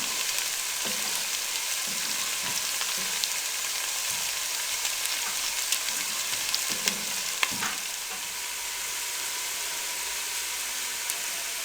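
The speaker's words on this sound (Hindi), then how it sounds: "प्याज़ों को हम हल्का ब्राउन करेंगे।" Onions fry in masala over a low flame, with a continuous soft, even sizzle and a few faint stirring taps, heard close, steady and quiet with no talking.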